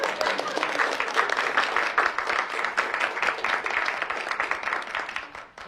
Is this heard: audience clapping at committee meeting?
yes